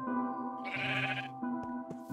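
A sheep bleats in the Minecraft video game, one clear wavering bleat followed by brief clicks over a steady tonal game background, with no talking.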